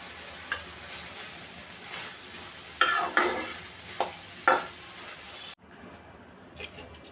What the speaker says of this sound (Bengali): এই মাখানো আলুটা আমি সরিষার তেলে রান্না করতেছি